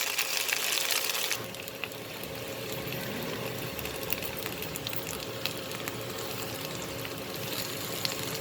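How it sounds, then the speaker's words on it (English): Okra, or ladies finger, fries gently in a pan for bhindi masala, giving a soft, continuous bubbling sizzle that starts after a brief louder burst and carries on steadily without speech. "So I'll just slightly fry it a little bit."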